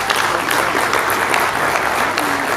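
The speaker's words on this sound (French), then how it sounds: "veuillez applaudir cette équipe" A crowd applauds a team at the Trophée Kongo ceremony in a Pullman hotel hall: loud, dense clapping throughout, close and continuous with no speech.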